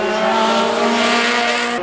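Safari Rally spec rally car with bull bars in full off-road trim, driving up the Goodwood Festival of Speed hillclimb, a loud close engine note with a sustained rising tone and tyre noise.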